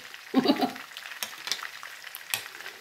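Mushrooms fry in a pan with a soft sizzle, broken by a burst of stirring and clattering near the start and a few sharp scrapes later, close up and fairly quiet.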